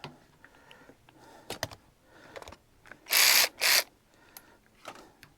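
A Hyper Tough 12V cordless ratchet drives a 3/8-16 nut in two short, loud motor bursts, with quiet clicks and handling noises before and after.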